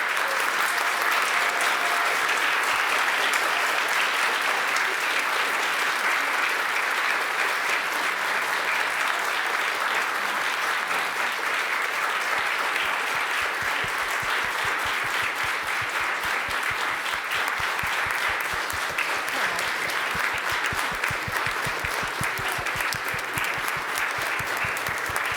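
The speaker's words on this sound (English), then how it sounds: "let's give our 2024 bridging class a round of applause." A church congregation gives the bridging class sustained, full applause that stays loud and even throughout, thinning into more distinct individual claps toward the end, with no speech over it.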